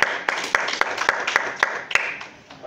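A church congregation clapping along in a steady rhythm, sharp claps falling roughly every quarter second at fairly close range, with faint voices mixed beneath the clapping.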